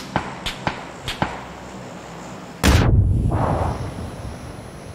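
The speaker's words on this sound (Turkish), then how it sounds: "bomba attım!" Grenade explosion in PUBG, a sudden loud blast with a rumbling tail, preceded by several sharp gunshots in quick succession, close and distinct with no talking.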